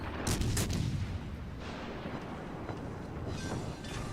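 Naval guns fire on the Tirpitz in a warship video game, a loud rumbling barrage of overlapping booms and cracks that rolls on continuously, with no voices.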